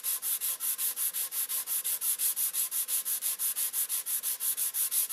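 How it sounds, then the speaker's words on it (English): Rhythmic hand sanding of a wooden plug flush, with the grain, a brisk scratchy rasp repeating in quick, even back-and-forth strokes, close and alone. "I'm going to sand it flat. I'm always sanding with the grain."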